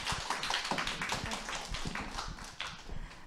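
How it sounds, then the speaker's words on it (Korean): Applause from a business seminar audience in Korea greeting a guest lecturer, with scattered, uneven claps and taps that stay fairly close and steady throughout. "큰 박수 부탁드리겠습니다."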